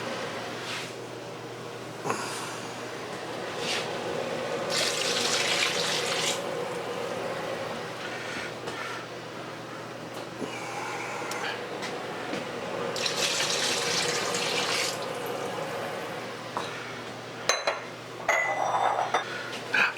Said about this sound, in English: Now it's time to just add in the beef stock.